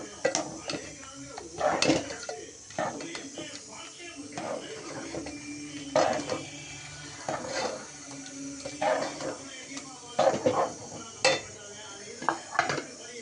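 Ground coconut and water being stirred in a pan for chicken gravy: intermittent scraping and clinking of a utensil against the pan, close and moderately loud, with soft kitchen clatter between strokes.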